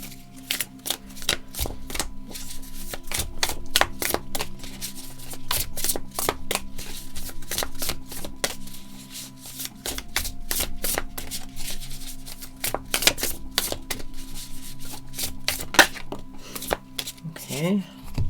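Tarot cards are shuffled and flipped in a long series of crisp, rapid snaps and riffles, close and fairly loud, with a steady low hum underneath.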